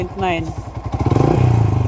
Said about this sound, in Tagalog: habang nakaandar yung motor.